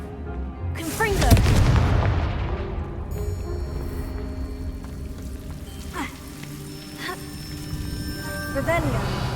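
An explosive spell is cast in Hogwarts Legacy, a heavy blast and rumbling debris early on followed by scattered whooshing spell effects and clatter, with a voice speaking over parts of it.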